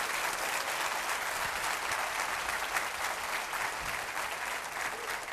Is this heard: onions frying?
no